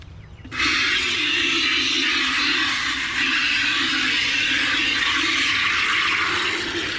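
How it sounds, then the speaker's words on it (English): A farm water hose kicks on abruptly and keeps running with a steady, loud hiss and splash close by, with no talking over it. "That pig heard that water hose kick on."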